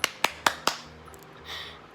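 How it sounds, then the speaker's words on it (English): One person claps four quick, sharp, evenly spaced times up close, then stops, leaving a quiet room with faint background noise. "I just keep clapping because I cannot stop clapping for some reason"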